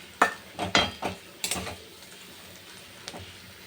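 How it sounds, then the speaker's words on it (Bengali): Curry leaves and dried chilli frying in a pan, a few sharp sputtering bursts and spoon scrapes in the first second and a half, then a faint low sizzle with one more brief pop. "একটু শুকনো লঙ্কা দিয়ে দিলাম, কারি পাতাটা আমার হয়ে গেছে ভাজা।"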